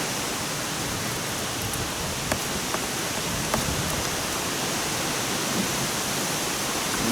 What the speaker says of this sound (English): I'm going to open up the hot water.